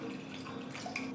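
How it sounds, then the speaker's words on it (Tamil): Water runs and trickles into a pressure cooker in a home kitchen, a steady faint splashing stream with light dripping throughout. "ஒரு ப்ரெஷர் குக்கரில் தேவையான தண்ணியை ஊற்றி"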